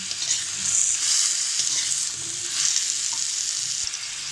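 Pumpkin with salt, turmeric and coriander powder is stirred in a frying pan, mixing a constant close sizzle with repeated scraping strokes that swell and ease, and nobody speaks.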